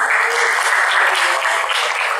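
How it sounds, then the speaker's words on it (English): Steady audience applause in a classroom lesson, dense clapping from many hands sustained and fairly loud throughout, with no break. "Everybody please give applause to him."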